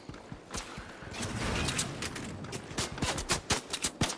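Gunfire in the video game Fortnite comes as clusters of sharp shots in quick bursts, some overlapping, over a dense background of game noise.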